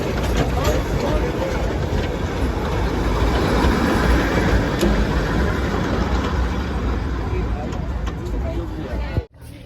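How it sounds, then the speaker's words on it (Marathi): The Darjeeling toy train rolls past close by, a loud, steady rumble with rattling wheels on the narrow-gauge track that fills the whole stretch before cutting off abruptly. "टॉय ट्रेन इथे फिरत असते"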